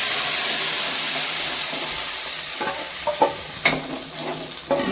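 Liquid for fenugreek kali is poured into a hot pan with a loud, steady hiss of sizzling, followed by a few scraping stirs of a utensil against the pan.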